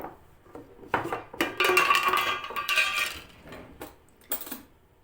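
Dough mixture is stirred in a bowl, giving close, quiet scraping and clinking of utensil against the bowl in a few bursts, with a longer busy stretch in the middle.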